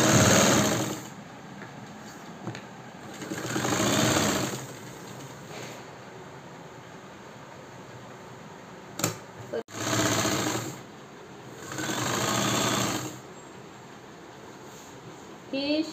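A sewing machine stitches a sleeveless blouse, whirring in loud bursts of a second or two that stop and restart, with steady room hum between runs and no talk.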